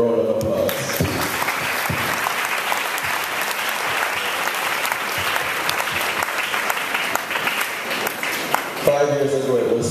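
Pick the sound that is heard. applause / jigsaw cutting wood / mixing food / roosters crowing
applause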